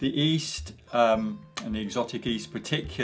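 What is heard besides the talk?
No distinct noise like a dog, phone or traffic.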